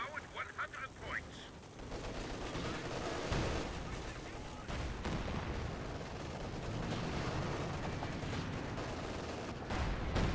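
T-34-85 tank cannon fire in a World War II strategy video game, a sharp shot at the start followed by continuous layered battle noise of guns and explosions under a commentator's voice.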